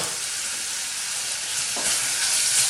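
Onions sweating in a pan with a teaspoon of sugar for a beef madras, a dense steady sizzle close up that swells slightly with a faint stir midway, no talking.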